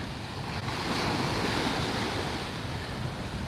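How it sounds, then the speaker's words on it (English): Waves surging onto a sea beach, a steady broadband wash of surf with gentle swells in loudness, carried by some wind, with no voices. "The sea and sky are beautiful, and the sound of the waves is soothing."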